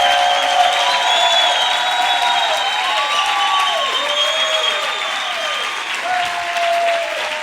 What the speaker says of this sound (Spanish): Si le vas a aplaudir, apláudele con todo